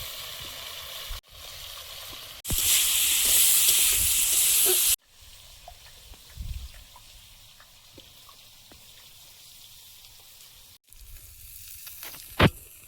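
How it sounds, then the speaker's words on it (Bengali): Bitter gourd frying in hot oil with salt while cooking, a loud hiss of sizzling in bursts, with quieter stirring and faint clinks in between. "আগে উচ্ছেটা ভেজে নেব, নুন দিয়ে দেবো"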